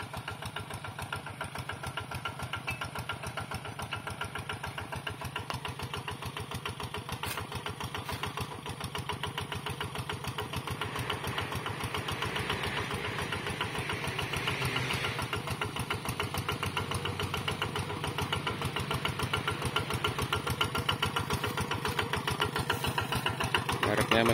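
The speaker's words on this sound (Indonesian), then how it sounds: "Mereknya mesinnya merek Quick G3000." A Quick G3000 cultivator engine runs steadily in a field being prepared for chili planting, a close, continuous mechanical drone with a rapid pulse that holds level throughout.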